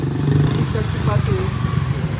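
A motorcycle engine runs at a steady idle to charge its battery after repair work, its low hum continuing beneath someone talking close by.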